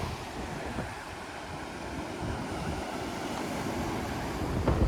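Atlantic Ocean surf washing onto a wild, empty beach among red cliffs in the Algarve, Portugal, a steady rushing wash mixed with wind buffeting the microphone, swelling slightly toward the end, with no voices.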